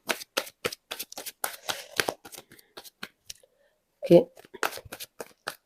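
Tarot cards being shuffled during a reading: a rapid series of crisp card riffles and slaps, close and fairly loud, with a brief pause and a short spoken word before the shuffling resumes.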